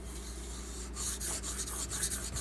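A knife blade rubbing on a Razor Edge System sharpening hone, steady close abrasive rasping in repeated strokes with no voices.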